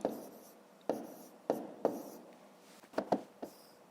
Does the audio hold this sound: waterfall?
no